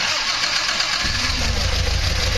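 A 1960 Triumph TR3A engine on Weber DCOE 42 carburettors cranks and catches, settling into a loud, rumbling idle with steady low throbbing.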